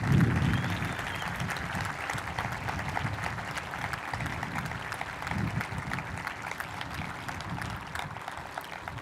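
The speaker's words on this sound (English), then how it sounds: "Graduates, let's give them a round of applause of thanks." A graduation crowd at a high school ceremony applauds the staff, sustained many-handed clapping that starts with a stronger burst and then carries on at an even, moderately loud level for several seconds.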